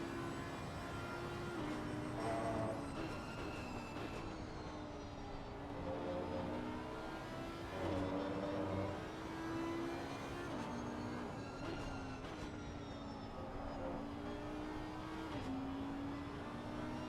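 GT3 race cars in the video game Assetto Corsa Competizione race at Donington Park. Engines drone and rise and fall through the gears in a continuous, moderately faint wash, with several cars overlapping.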